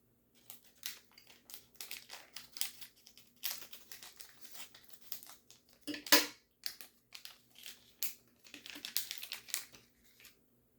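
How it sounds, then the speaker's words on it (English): Close, quiet crinkling of plastic chip packaging being cut open with scissors, repeated snipping and rustling, one sharper crackle partway through, no voices. "I guess I just use the scissors"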